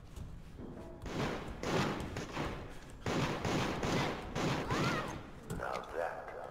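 A rapid barrage of booming, crackling fireworks bursts in the video game Deceit, dense and continuous, with a brief lull midway before more blasts.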